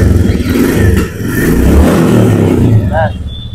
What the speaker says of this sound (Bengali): বলবো গাড়িটা ইঞ্জিনের সাউন্ডটা শোনাতে।